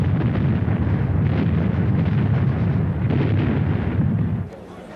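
Heavy World War I artillery fire makes a loud, continuous booming rumble that rolls on without pause, then drops away abruptly just before the end.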